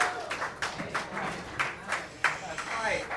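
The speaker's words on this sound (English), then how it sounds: "another round of applause for autistic Jason Bateman" A small audience at a dive-bar comedy show claps in a scattered burst of applause, a close patter of hands with a few sharper peaks over several seconds.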